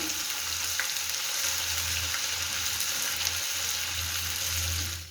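Garlic-ginger paste frying in a pan for a whole urad (mash) dal dish, giving a steady, close, continuous sizzle with occasional faint stirring scrapes and no talking.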